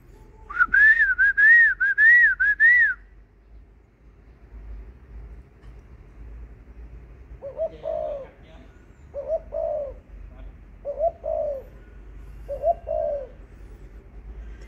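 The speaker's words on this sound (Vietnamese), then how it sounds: "Giờ thấy chim mà yêu cầu sạc qua cái là gù liền nè" A dove coos in four separate low, rounded calls spaced a second or two apart, after a loud warbling whistle at the start.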